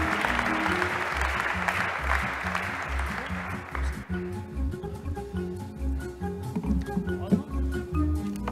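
Audience applause at an award ceremony for the Rennes city official in charge of mobility, a broad steady wash of clapping through the first half that thins out while music and a voice carry on beneath.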